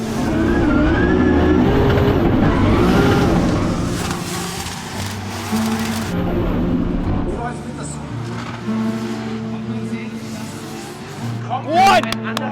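Roaring drift car engines, including a Toyota GR Supra, rev and drone continuously at a Drift Masters event in Germany, with engine pitch rising and falling, a loud crowd or commentary-like voice underneath throughout.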